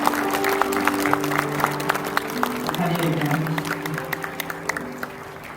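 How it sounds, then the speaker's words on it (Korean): Congregation applauding during a Korean Presbyterian church service installing deaconesses, a steady wash of clapping with some sharper claps, sustained organ or keyboard tones and voices underneath throughout. "우리 뜨겁게 우리 박수해 주시기 바랍니다."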